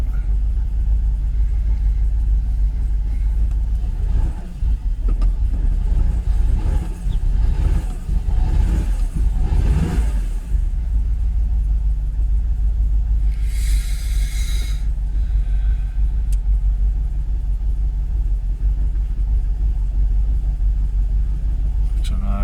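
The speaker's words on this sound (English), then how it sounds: "Let's go to neutral. Revs are picking back up." A rough-running Jaguar XKR (X100) engine idles in neutral with a steady low rumble, revs swelling briefly mid-clip, and someone talks over it.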